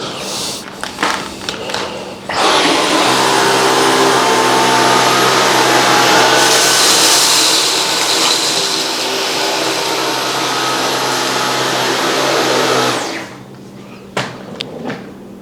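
Dyson Gen5 and V15 cordless vacuums running on a rug, a loud steady high whine with a droning motor hum lasting about ten seconds, preceded and followed by clicks and handling knocks.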